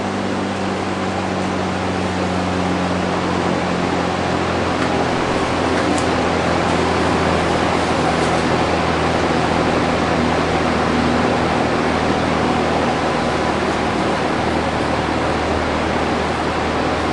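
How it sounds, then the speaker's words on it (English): A vintage Dominion box fan on a roll stand runs steadily, giving a loud, even whooshing hum with a low motor drone and no pauses. "Sometimes we'll use this fan to blow air up the stairs"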